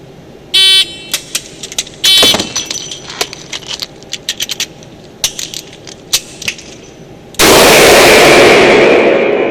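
Duty revolver on a shooting range during drills: two loud, sharp reports early on, followed by a string of light metallic clicks and rattles, then a sustained loud rushing noise to the end.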